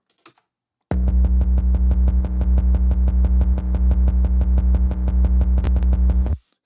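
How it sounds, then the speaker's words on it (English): A sub bass synth plays alone in an 80s-style electronic track built in Ableton, sounding as a steady, loud run of rapid evenly repeated low notes for about five seconds with no voices. "it initially started out with just the one sub bass"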